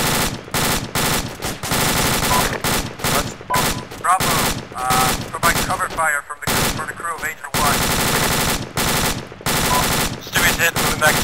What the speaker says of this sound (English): They're firing at him.